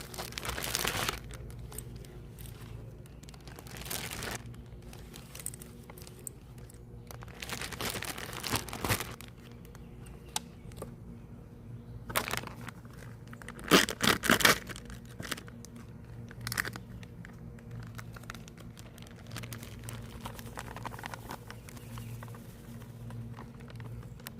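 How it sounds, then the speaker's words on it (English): Whole catfish in a zip-top plastic bag of seasoned fish fry coating get shaken, giving bursts of crinkling plastic and rustling, pattering thumps, loudest in short bouts with quieter gaps between. "We're going to close up the bag, give it a quick shake."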